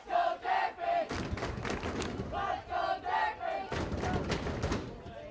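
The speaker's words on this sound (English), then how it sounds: "Now the crowd will come alive." Crowd at a boys' high school soccer match chanting and cheering in rhythmic bursts, with repeated rising shouts and thumping beats, loud and fairly close, pulsing in waves over several seconds.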